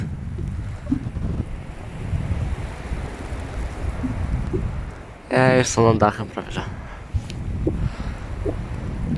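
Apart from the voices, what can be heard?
wind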